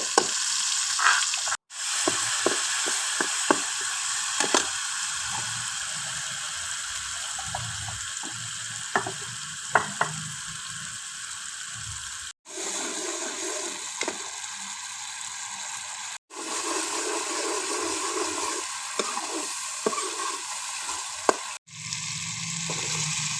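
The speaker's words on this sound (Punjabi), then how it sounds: "ਜੋ ਆਪਾਂ ਮਸਾਲੇ ਨੂੰ ਪੀਸਿਆ ਸੀ ਉਹ ਆਪਾਂ ਇਸ ਦੇ ਵਿੱਚ ਪਾਵਾਂਗੇ ਅਤੇ ਇਸ ਨੂੰ ਪੂਰੀ ਤਰ੍ਹਾਂ ਮਿਕਸ ਕਰਕੇ ਭੁੰਨ ਲਵਾਂਗੇ" Ground spices sizzle and roast in a pan for pumpkin curry, a steady frying hiss broken by frequent scraping stirs and a few short pauses.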